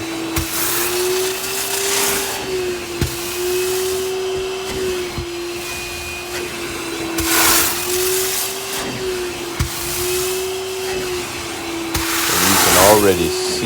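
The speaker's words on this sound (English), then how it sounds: "Then you just want to vac it out with your shop vac." A shop vac roars steadily while extracting foamed cleaning solution from a wool carpet during red wine and vomit stain removal, its motor whine continuous and close with brief surges, and a voice speaks over it.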